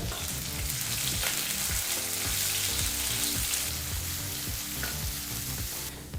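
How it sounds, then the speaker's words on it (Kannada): Chopped onion fries on a medium flame for a capsicum masala rice, giving a steady, loud, close sizzle with scattered stirring clatter throughout and no talking. "ಈರುಳ್ಳಿನ ಎರಡು ನಿಮಿಷಗಳ ಕಾಲ ಮೀಡಿಯಂ ಫ್ಲೇಮಲ್ಲೇ ಫ್ರೈ ಮಾಡ್ಕೋಬೇಕಾಗತ್ತೆ"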